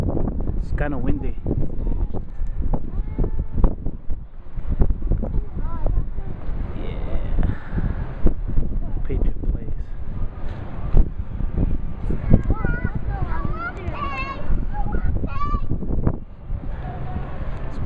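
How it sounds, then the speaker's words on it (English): Gusty wind buffets the microphone with a constant low rumble while people talk and move about nearby, outside next to Gillette Stadium. "It's kind of windy."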